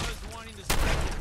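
Gunfire in the game Fallout 4, two sharp loud bursts of shots separated by a brief pause, with a voice speaking faintly between them.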